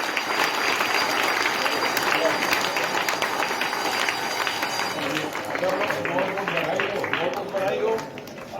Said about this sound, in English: Give a big clap for the students.